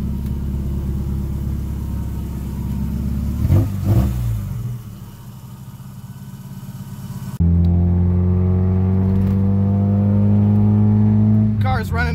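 A car engine runs close by after a transmission service and oil change, holding a steady rumble and then revving harder in a louder, strongly tonal stretch, with brief voices at moments.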